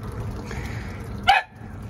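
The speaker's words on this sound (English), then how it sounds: "Sorry, that's my dog." A dog gives one short, sharp bark in a home vegetable garden in Japan. It rises above a steady outdoor background hiss.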